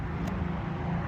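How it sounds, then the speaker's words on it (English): Steady highway traffic roars close by, a broad low rumble with no breaks over a short moment, at a fairly quiet level beside a lumber yard where black walnut slabs are measured, with no talking. "we're right next to the highway, so pardon the highway noise"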